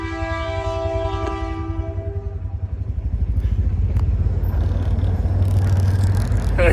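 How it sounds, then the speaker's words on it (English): The Rocky Mountaineer passenger train rumbles past with a long, droning horn at first, then a steady rhythmic clatter of wheels on rails, loud and close. "There's a train even"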